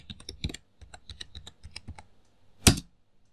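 Rapid keystrokes on a computer keyboard as a Windows 10 password is entered, close and crisp, ending with one heavier key press like Enter.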